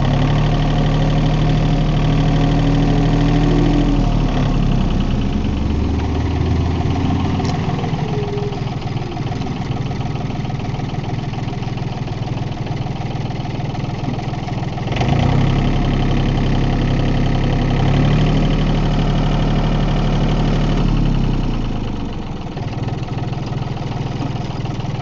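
A John Deere 870 tractor engine idles steadily and smoothly nearby for the full stretch, a deep continuous diesel rumble with slight shifts in pitch and no talking.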